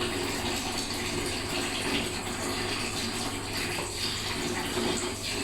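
Water gushes steadily into a tub for a pet's bath, a continuous, fairly loud rushing fill that runs unbroken with no talking.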